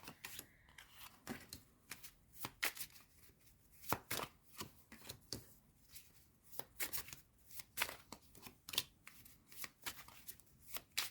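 Tarot cards being shuffled and arranged by hand, a run of crisp, close riffling snaps and soft slaps coming in irregular bursts with brief quiet gaps between, no talking.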